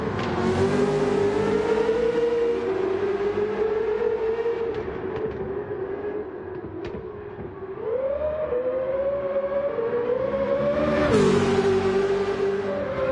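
A Corvette CX hypercar racing in Gran Turismo 7, its engine holding a steady high whine that rises and dips with gear changes and throttle, loud and continuous throughout.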